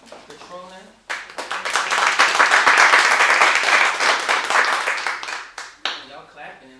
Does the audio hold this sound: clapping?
yes